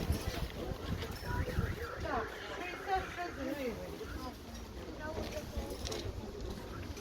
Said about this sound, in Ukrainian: Вітер все роздуває.